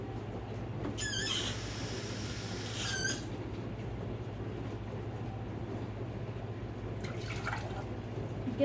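Tap water runs into a measuring cup while two cups are measured out for chocolate Malt-O-Meal, a steady close rush with brief brighter splashing bursts near the start and end.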